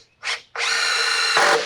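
Screws are driven into wood with a power drill: a short whirring burst, then a longer steady high-pitched drive that bogs slightly as the screw seats, close and loud.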